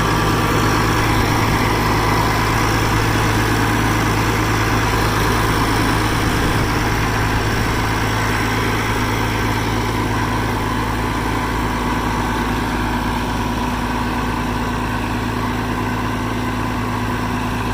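A Massey Ferguson 550 combine's engine running steadily, a loud, dense, low drone with a constant mechanical hum, held evenly at close range with no talking.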